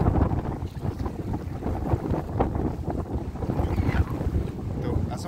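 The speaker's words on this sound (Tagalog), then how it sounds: "Ito, nasa mahangin" Strong wind buffets the microphone outdoors while fishing with rods near open water, a steady rushing roar that fills the whole clip with no voices.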